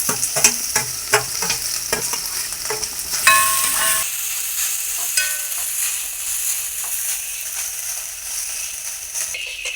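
Grated coconut and shallots roasting in a pan for a Kerala-style chicken curry, with rapid rhythmic clicks and scrapes of stirring over a low sizzle that later settles into a quieter, steady hiss.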